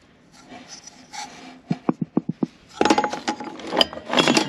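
Old nuts, bolts and spark plugs are rummaged through from storage alongside a 1945 Caterpillar D4, giving a quick run of sharp metallic clinks and clatters followed by denser, louder jangling and rubbing of greasy hardware.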